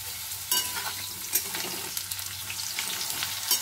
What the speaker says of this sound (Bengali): আমার কিন্তু মোটামুটি আলুগুলো বেশ ভালো ভাজা হয়ে গেছে।